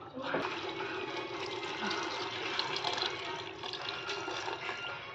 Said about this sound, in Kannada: 5 ಕಪ್ ನೀರು ಹಾಕ್ತೇನೆ.